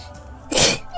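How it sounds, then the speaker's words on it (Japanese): A single sharp human sneeze bursts out loud and close, a short explosive burst after a moment of quiet breathing, with no other talk around it. "あー、くしゃみが出そうだ。"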